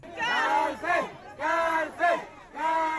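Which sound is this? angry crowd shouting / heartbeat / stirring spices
angry crowd shouting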